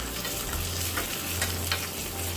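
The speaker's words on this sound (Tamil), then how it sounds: "அப்புறமா கொஞ்சம் கருவேப்பிலை இலைகளை சேர்த்துட்டு இது எல்லாத்தையும் நல்லா மிக்ஸ் பண்ணி விட்டுறலாம்." Mustard seeds, cumin and curry leaves sizzling in hot oil for a coconut chutney tempering: a loud, dense, continuous crackling hiss, close up and steady throughout, with no voices.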